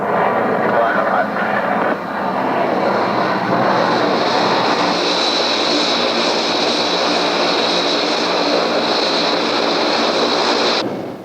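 An airliner's engines roar steadily near an airport runway during takeoff or landing, a loud continuous drone with a brief dip early on that holds until it cuts off near the end.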